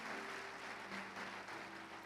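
Church congregation applauding in praise, a continuous wash of many hands clapping that sounds distant and fairly faint, with a steady low hum running beneath it.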